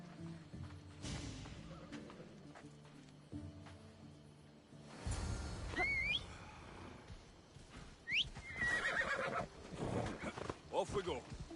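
A horse in Assassin's Creed Odyssey whinnies several times over a bed of music and voices, with a shrill neigh near the middle and more whinnies and snorts toward the end.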